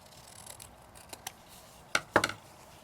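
Scissors trim a purple paper pocket for a handmade tag booklet, with a few faint snips followed by a quick run of crisp, close cuts near the end.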